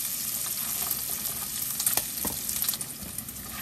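Bacon frying in its own fat in a pan, a steady close sizzle and crackle with occasional pops and light stirring scrapes, with no voices.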